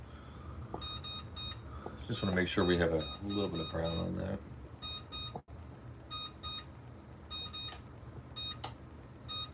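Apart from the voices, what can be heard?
kitchen timer beeping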